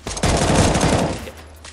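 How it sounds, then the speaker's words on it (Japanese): Gunfire in the mobile shooter Knives Out: a dense, loud burst of rapid automatic shots rattles for about a second, then stops, leaving a low hum. "こっちの方で銃声してたんだよな"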